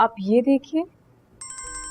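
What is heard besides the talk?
mobile phone ringtone ringing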